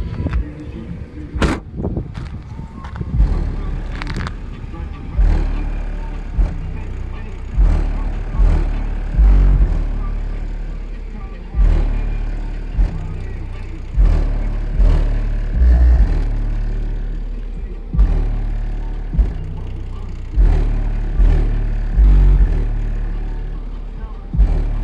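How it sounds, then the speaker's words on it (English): A Kicker Solo-Baric L7 subwoofer in a car pumps loud, deep bass in repeated booming pulses with a rattling, thumping character, heard from close by. A voice speaks briefly over it. "let's go ahead and turn the subwoofer up, see if we can get some flex"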